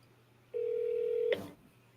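A phone call dialing out, a single steady tone held for almost a second, then a brief click as it cuts off, over a faint low hum with no talking.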